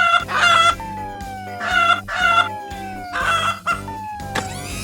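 A cartoon siren malfunctions and comes out as a hen's clucking, repeated rhythmic cackles with descending squawk tones in four close, loud bursts.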